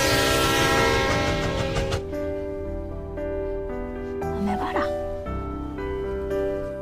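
A train rumbles along on its journey to China, with a long sustained horn blast over the running noise and a narrator's voice speaking across it.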